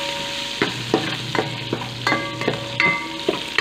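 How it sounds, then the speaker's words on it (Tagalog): Ginger, onion and garlic sizzle in a frying pan under steady stirring, with a constant frying hiss and repeated spatula scrapes and taps against the pan, close by. "lagay ko na po yung luya, sibuyas, bawang"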